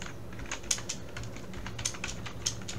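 Typing on a computer keyboard while entering a map label in QGIS, a quick close run of light key clicks with irregular rhythm, heard alone without speech.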